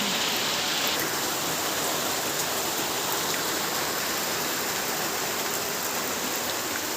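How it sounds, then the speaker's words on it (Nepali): Steady rain falls without a break, a dense, even hiss close by at constant loudness, with no voices. "यो पानी पनि कहिले छुटेन भगवान।"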